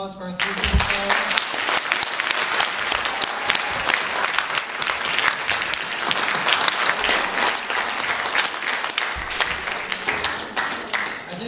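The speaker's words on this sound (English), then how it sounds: "We have one more round of applause for our 3 superstars." A school audience gives a sustained round of applause for three February student stars, dense steady clapping filling the room from start to finish, with some crowd murmur underneath.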